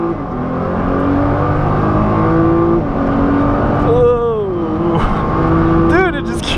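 A high-horsepower Toyota Supra accelerates hard, its engine climbing steadily in pitch through the gears with sharp shift breaks. The sound is loud and continuous, and excited voices are heard over it.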